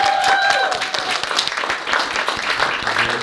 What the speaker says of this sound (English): let's get one more round of applause for this crew